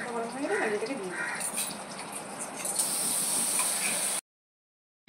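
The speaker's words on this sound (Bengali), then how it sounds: "এবার বাটারটা গরম হয়ে গেলে ডালিয়াটাকে দিয়ে দিই।" Broken wheat (dalia) dropped into hot butter in a pan sizzles with a steady, close hiss that swells louder midway, then cuts off abruptly.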